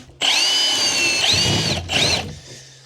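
Power drill boring holes through loft timber, a loud whining run of about a second and a half, a short pause, then a second briefer burst before it winds down, close and alone.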